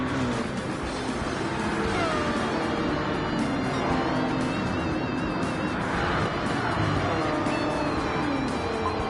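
A pack of race cars in Gran Turismo 7, including a Lamborghini Murcielago, roars steadily on track, engines droning and overlapping as they jostle through a dense, continuous wall of sound.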